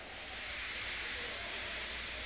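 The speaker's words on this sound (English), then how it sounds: "He just let off steam feebly." The steam engine Gordon lets off steam in a steady, broad hiss that stays even and continuous throughout, close and fairly loud with no other sound over it.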